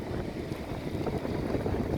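Water rushes continuously over Lower Basswood Falls in the Boundary Waters, a dense, loud broadband roar with no pauses and no voices over it.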